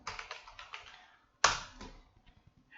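Typing on a computer keyboard: a quick run of light, close key clicks followed by one sharper, louder keystroke and a few scattered soft taps.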